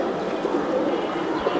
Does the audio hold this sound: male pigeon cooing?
yes